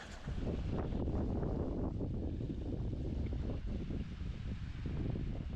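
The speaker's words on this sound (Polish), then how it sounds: "Trochę wiatr wieje." Wind buffets the microphone beside a lake in February, a continuous low rumbling roar with gusty surges and no voices.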